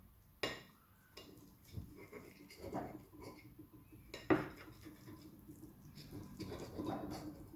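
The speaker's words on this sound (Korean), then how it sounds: "일단 썰어 볼게요" Cutlery scrapes and clinks on a plate while Turkish şırdan, a stuffed tripe dish, is cut, producing scattered faint taps and knocks at close range.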